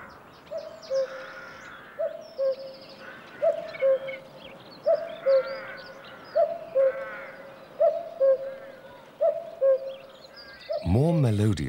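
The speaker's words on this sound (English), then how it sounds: "No sound is more eagerly awaited than the echoing call of the cuckoo" A male cuckoo repeats its two-note courtship call, steady and echoing, about eight evenly spaced phrases at moderate distance, followed by a brief louder burst at the end.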